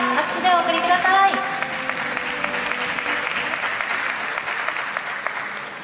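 Sustained applause from an awards ceremony audience at the Japan Race Queen Awards stage event at Tokyo Auto Salon, steady and dense throughout, with a voice speaking briefly over the opening second.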